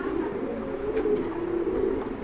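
A high-quality fancy pigeon offered for sale coos in a low, rolling, continuous murmur close by, with no talk over it.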